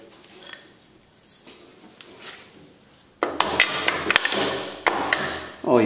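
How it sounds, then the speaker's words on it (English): A hammer strikes go-kart engine metal in a quick run of sharp, ringing taps after a quiet stretch with faint handling noise, loud and close. "Might have to grab the old trusty hammer."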